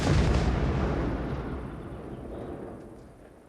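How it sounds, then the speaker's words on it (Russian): A detonated explosive charge, wired up with cables, goes off with a loud, immediate boom that rolls away into a long, fading rumble over about three seconds. "Внимание, внимание! Готовность к взрыву!"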